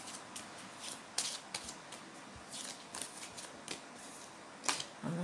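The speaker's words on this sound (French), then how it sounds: "Quand je mélange les cartes" A deck of cards being shuffled by hand, repeated quick riffles and soft slaps in irregular bursts, close but quiet, no speech.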